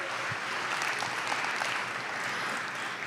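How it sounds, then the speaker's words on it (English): Sustained applause from a crowd, dense and even clapping that holds steady throughout without pause. "Can y'all give a round of applause for Dee-1?"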